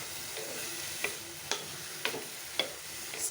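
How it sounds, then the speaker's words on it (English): Radish pieces with curry leaves stirred and fried in hot oil, a steady sizzle broken by four or five sharp spatula scrapes against the pan at a slow, even pace. "And I'll stir this very well for just about"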